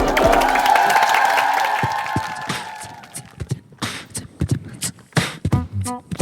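A studio audience at a Korean TV talent show cheers as an a cappella group opens a pop medley, the sustained singing giving way to scattered, uneven claps and crowd noise.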